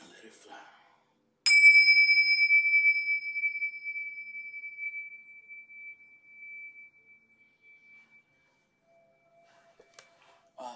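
A meditation bell is struck once and rings out in a clear, pure tone that fades slowly over several seconds into near silence, with faint small sounds near the end.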